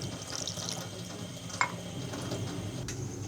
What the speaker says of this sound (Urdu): قیمہ فریز تھا اس لیے تھوڑا سا پانی ڈال کر ابالیں گے۔